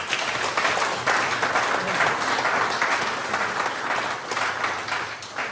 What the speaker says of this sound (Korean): 모두에게 스스로에게 박수 칩시다.